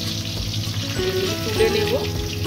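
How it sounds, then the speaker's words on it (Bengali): Bhetki fish fingers fry slowly over low heat with a soft, steady sizzle and bubbling. Someone speaks over the frying. "অল্প আঁচেতে ভালো করে এইভাবে ভেজে নিতে হবে"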